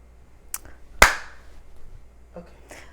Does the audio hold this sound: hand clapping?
yes